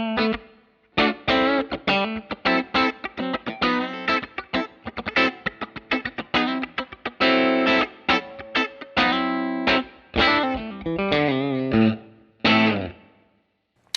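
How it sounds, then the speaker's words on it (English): A distorted electric guitar through a Line 6 Helix modeling a Silvertone 1484 amp plays choppy chords and riffs with short stops between phrases, each burst ringing out with a spacious reverb echo. "I'm going to bring the reverb in"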